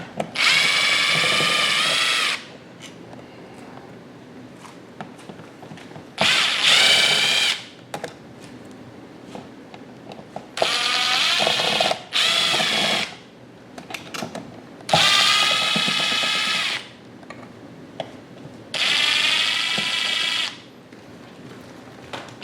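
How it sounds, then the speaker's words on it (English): Cordless power drill loosening the screws on wall light switches during installation of smart switches, heard as five loud whirring bursts of two to three seconds each, separated by quieter pauses with faint handling. "Next, we're going to loosen all of the screws on the switches."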